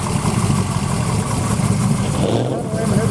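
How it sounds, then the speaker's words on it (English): A carbureted hot rod engine idles at a car event at a speedway, a loud, steady low rumble that fills the whole clip without a break. "You know that for just sitting here, it idles pretty well."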